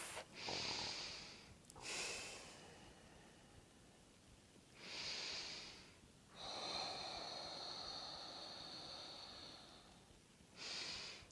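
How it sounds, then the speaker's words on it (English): Slow, deep breaths during a root chakra yoga session, heard as four long airy inhales and exhales, close and alone, each a few seconds long with pauses between. "So deep, lovely full breaths."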